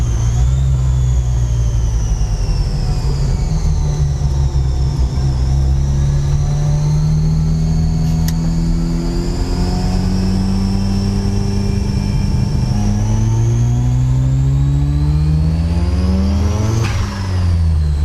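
A Mark 1 Ford Escort with a 12A turbo rotary engine drones loudly and continuously, its pitch swelling and dipping through a series of revs and gear pulls, heard close up with no talking.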